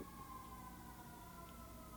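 A faint siren drones steadily in the distance, its tones held without much rise or fall, under a low background hum.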